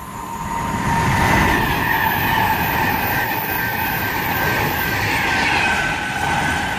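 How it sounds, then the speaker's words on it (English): A Pendolino express from London to Manchester rushes through Rugeley Trent Valley station on the West Coast Main Line, a loud sustained roar of wheels and air with a steady high whine, close by and without speech. "passing through now is going to be another Pendolino from London to"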